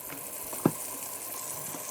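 Chopped onions sizzle faintly in a pan of oil as they fry, a soft steady hiss with one brief louder knock partway through, no voices.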